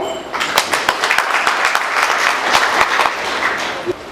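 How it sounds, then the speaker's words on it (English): Applause from the audience at the launch of a Zambia TB parliamentary caucus, a dense, sustained clapping from a crowd with some individual claps standing out near the microphone. "we can even clap for ourselves"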